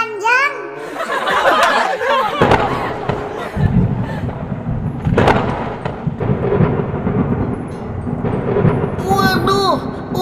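Rolling thunder from an approaching rainstorm in the Sakura School Simulator game, loud sustained rumbling beneath a voice and other talking, with some light rain-like hiss.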